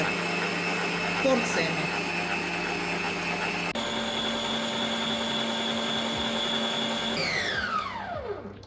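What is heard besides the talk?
planetary stand mixer whipping egg whites with sugar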